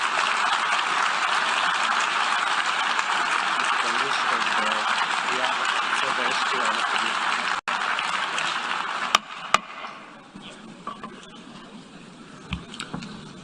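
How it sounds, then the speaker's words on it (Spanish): Sustained applause from diplomats in the UN General Assembly hall after a resolution condemning Russia's invasion of Ukraine is approved, a broad, steady wash of many hands that fades after several seconds into scattered claps and room noise. "Los diplomáticos celebraron con aplausos la aprobación de la resolución de la ONU que condena la invasión de Rusia a Ucrania."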